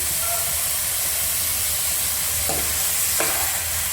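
Chicken curry sizzles and hisses in a pan over a high flame as salt is stirred in, giving a steady loud frying roar with a couple of brief scraping strokes near the end.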